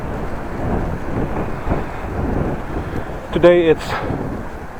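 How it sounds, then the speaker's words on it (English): Wind blowing outdoors on a mild, snow-melted afternoon while cycling through a city park, a steady broadband rush buffeting the microphone, with a brief voice speaking near the end. "It is windy though."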